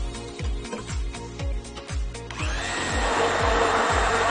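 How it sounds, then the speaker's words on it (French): Blender whirring through a strawberry mixture with xanthan gum and dextrose, starting with a series of short rhythmic pulses and then settling into a loud continuous whir, with no talking. "Ce mélange, tout simplement, on va le mixer pour activer la gomme de xanthane."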